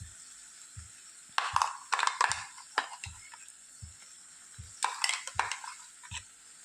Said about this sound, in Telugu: ఈ పేస్ట్ ముక్కలకి బాగా పట్టేటట్లు కలుపుకోవాలి